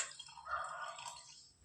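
Water spills and drips onto a floor in one brief, faint splash that trails off, with no talk over it.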